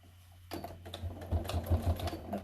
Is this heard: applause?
no